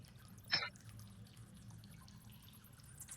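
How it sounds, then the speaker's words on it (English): A single water drip lands once inside a moss-carpeted cave, a short, dull, close plop with no echo over a low rumbling background hum. "The sound of dripping doesn't echo, but is immediately dulled by the moss-carpeted surfaces."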